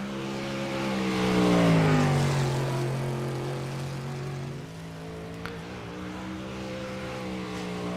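A race car engine drones on track at Oswego Speedway in iRacing, a sustained steady tone that swells briefly as it accelerates and then settles into a constant hum.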